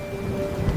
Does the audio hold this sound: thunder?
yes